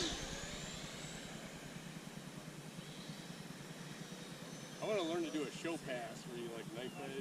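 A Freewing F-16 70mm EDF RC jet flies at a distance as a steady, faint ducted-fan whoosh, while nearby voices and a short whistle-like tone break in near the end.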